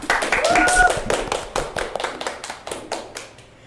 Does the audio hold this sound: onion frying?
no